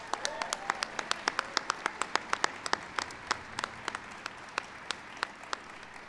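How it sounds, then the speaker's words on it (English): Applause at a Wounded Warrior Project Soldier Ride event, thinning into scattered individual claps, sharp distinct hand claps spaced irregularly, some close and loud, fading toward the end. "Give them a big round of applause."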